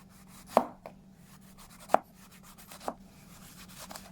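A mandarin orange is cut into pieces on a board for a fruit punch: three distinct knife chops land about a second apart, with a faint hum beneath and a few soft taps near the end. No one speaks.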